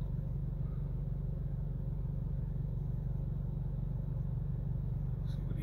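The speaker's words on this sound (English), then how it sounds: "There's a lot of traffic around here." Steady low rumble of road traffic at a military post, cars and engines droning along a nearby road at moderate distance, continuous and fairly quiet with no voices.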